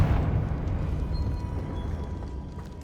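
A Confringo explosion spell in Hogwarts Legacy gives a rumbling, low blast that starts loud and slowly fades, with no talking over it.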